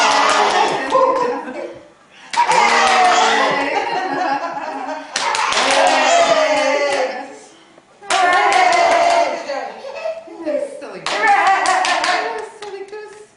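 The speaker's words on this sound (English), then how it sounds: "Don't clap like that." A child claps hands in bursts of rapid claps at a family gathering, captured on a 2004 camcorder, with laughter and chatter around the clapping.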